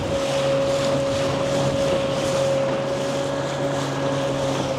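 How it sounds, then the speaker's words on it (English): Steady wind roars across the microphone over a constant low engine drone of a sailboat motoring along off the Philippines, with no voices. "It's a windy day."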